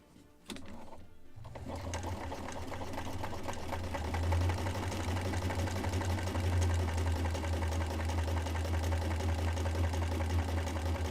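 A sewing machine stitching sails for a Muscongus Bay Lobster Smack model boat kit, starting after a few clicks and then running as a steady, close, rapid mechanical whir with no voices.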